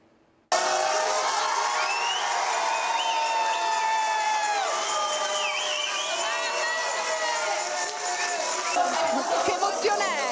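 A large crowd cheers, whoops and shouts in welcome as Olympic fencers returning from Paris 2024 arrive at Trieste Airport, a loud sustained roar of many voices with high shrill calls, continuous throughout.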